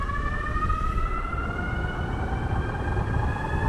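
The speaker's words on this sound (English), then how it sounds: "The motor is really loud." A NAVEE S65 electric scooter motor in sport mode gives a steady high-pitched whine with rising tonal lines over a constant rumbling roar, loud and close throughout.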